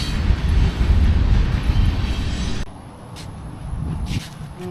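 A train rumbles past nearby with a loud, broad roar that drops off halfway through, leaving quieter background noise.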